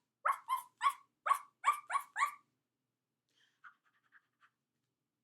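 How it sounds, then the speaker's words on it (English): A dog gives seven sharp barks in a quick, close, uneven run, followed by quiet gaps and a few faint, softer sounds. "A dog."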